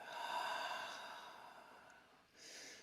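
Slow breath out through the mouth during a guided breathing exercise, a long soft airy exhale that fades, followed by the start of another breath, close and quiet.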